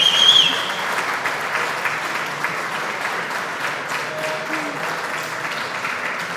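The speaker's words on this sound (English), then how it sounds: "This is an applause for Magnus Carlsen." An audience at a top-level chess tournament applauds Magnus Carlsen with even, sustained clapping throughout, a moderately loud crowd sound with a brief brighter tone at the start.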